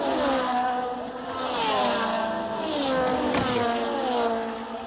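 A small electric motor whines steadily with rising and falling pitch as a 1975-82 Aurora AFX Magnatraction slot car circles a track in repeated laps, continuous and fairly close.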